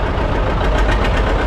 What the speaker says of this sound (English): driving a John Deere 730 diesel standard. This is built in 1960 and it has a pony motor start